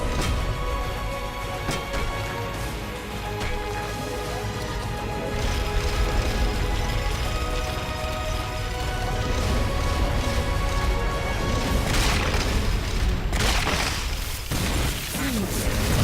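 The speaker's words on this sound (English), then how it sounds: "Firing tail missiles." Tail missiles fire from the boss in the Peace Walker video game: a long, loud, dense run of mechanical bursts and booming blasts, with a bigger crash near the end.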